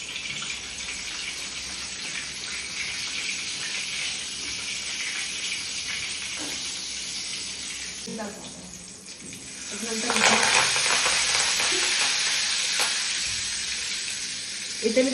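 Asafoetida tempering in hot oil in a home kitchen, a steady close hiss and crackle of sizzling that swells louder and brighter partway through, with a voice faintly underneath at times.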